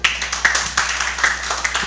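Audience applause at a youth debate event, a moderate crowd clapping with a few distinct sharp claps standing out in a loose, uneven rhythm.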